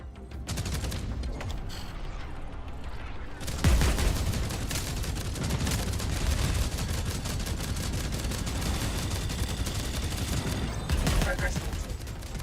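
Steady, rapid pistol gunfire in the sci-fi shooter Jump Space, loud and sustained with sharp repeated reports, preceded by a short quieter stretch and with a voice speaking beneath it.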